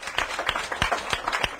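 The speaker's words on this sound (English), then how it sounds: "Let's give them a round of applause real quickly." A small group claps briefly for kitchen staff at a dinner event, a short burst of distinct, fairly close handclaps with an uneven rhythm.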